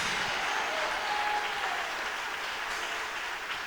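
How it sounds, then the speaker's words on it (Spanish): A church congregation applauds in a continuous wash of hand claps, steady and moderately distant, with no voices standing out. "¿Cuántos aplauden bien fuerte a Dios?"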